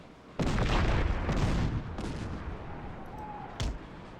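Cannon and artillery fire from a battle in Empire: Total War, with one heavy booming volley that rumbles on for over a second, then a lighter blast and a later sharp report, mid-distance over steady battlefield noise.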